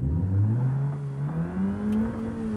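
A Hyundai i20 car engine in the video game BeamNG.drive revs and climbs steadily in pitch, a smooth continuous whine with a hum underneath, with no talking.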